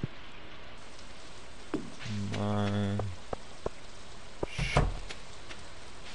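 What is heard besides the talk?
rain falling in the video game Stardew Valley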